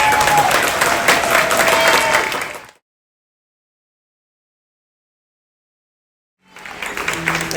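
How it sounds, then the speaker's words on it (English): An audience at a Chinatown Los Angeles Ghost Festival event breaks into dense applause that cuts off into silence, then resumes clapping toward the end. "Let's give him another round of applause."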